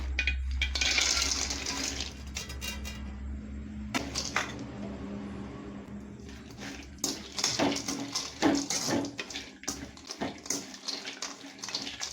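Raisins sizzle as they fry in hot ghee for boondi laddu, a steady crackling hiss with clinks and scrapes of a utensil in a pan, close and moderately loud, with no talking.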